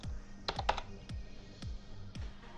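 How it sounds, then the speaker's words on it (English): Typing on a computer keyboard: a short run of crisp, close key clicks in an uneven rhythm, with a few quick bursts of strokes and no talk. "Now let's type in Fight Night Champion."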